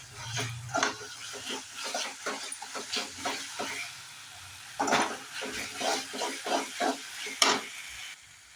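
Ginger-garlic paste is sautéed in oil for prawn thokku: rhythmic spoon scrapes and stirring strokes repeat over a quiet sizzling hiss, close and moderately loud, with a short pause midway.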